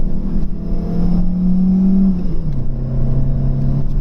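A Vauxhall Cavalier GL fitted with SRi and GTE parts, including a GTE gearbox, pulls steadily from inside the cabin with a loud droning engine hum that shifts down in pitch partway through as it changes gear.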